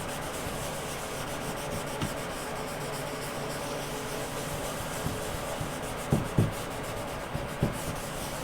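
Cloth rubbing wood stain off a wooden sample board, a steady close scrubbing texture with a few light knocks near the end.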